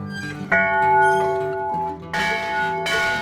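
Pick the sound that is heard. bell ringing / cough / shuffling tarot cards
bell ringing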